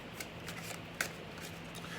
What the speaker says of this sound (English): one more shuffle and that's it